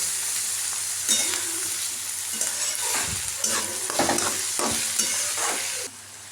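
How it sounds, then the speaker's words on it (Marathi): Vegetables stir-fry in hot oil in a home kitchen pan for fried rice, with a soft steady sizzle under repeated scraping, clattering strokes of a spatula. The last moments are quieter. "भाज्या 2-3 मिनिट चांगलं तेलात परतून घ्या।"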